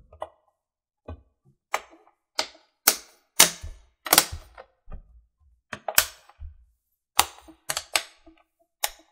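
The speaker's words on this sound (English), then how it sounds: "Might have to go around it a couple of times so that it stops clicking and crunching." A CPU fan in an HP Pavilion 15-inch laptop is clamped down with a series of sharp, dry clicks and crunches, about a dozen irregular snaps close up in otherwise quiet surroundings.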